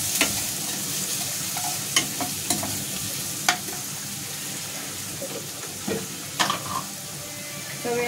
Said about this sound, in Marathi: एकदम नरम होऊन कांदा असा ब्राऊन होऊन तळून घ्यायचा.